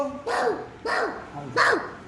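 A voice imitates a dog barking, three loud woof-like calls spaced evenly apart, close to the listener.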